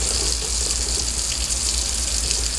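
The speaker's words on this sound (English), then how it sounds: "I'm adding in 3 cups of water at this point" Tap water pours steadily into a bowl for no-knead bread dough, a continuous close hissing gush with no talk over it.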